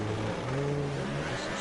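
Video game race cars on a PS4 rev together at the start of a race, making a dense, steady engine drone with shifting tones throughout.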